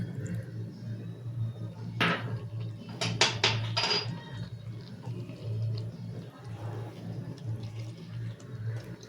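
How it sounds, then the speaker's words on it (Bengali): Water splashes and clinks in a bowl as a yogurt bowl is rinsed in a kitchen during Bengali prawn cooking, a short run of bright clattering bursts over steady background hum. "দইয়ের বাটিটা ধুয়ে একটু জল দিলাম"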